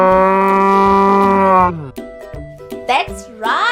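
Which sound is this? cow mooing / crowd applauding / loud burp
cow mooing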